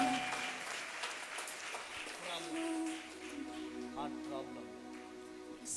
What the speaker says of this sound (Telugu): చేతులు పైకి లేపి గట్టిగా చప్పట్లు కొట్టాలా?